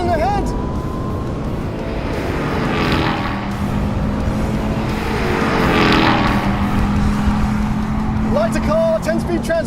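A RAM TRX and a Ford Raptor R pickup race side by side, their engines roaring and rising in pitch as they accelerate, with excited voices talking over the loud, steady drone.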